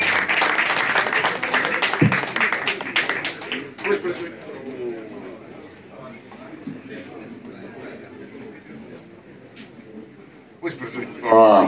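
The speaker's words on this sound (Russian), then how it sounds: "Пусть прозвучат еще раз ваши аплодисменты для музыкантов, стоящих на сцене." A concert audience applauds musicians on stage, with dense clapping and cheering at the start that fades into crowd chatter, then a short burst of clapping returns at the end. A voice speaks over part of it.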